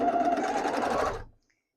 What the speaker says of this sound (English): I'm just going to sew all the way down, turn down the bottom, up the side